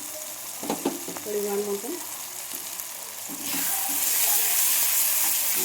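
Ginger, garlic and onion paste frying in hot oil, a steady broadband sizzle that swells louder midway and continues evenly, with a brief stretch of speech near the start.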